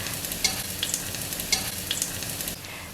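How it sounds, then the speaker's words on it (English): Ginger slices fry in canola oil while a utensil stirs them, giving a steady near sizzle broken by several distinct scraping clinks of the spoon against the pan. "Next, I add the ginger slices and stir them to separate the pieces."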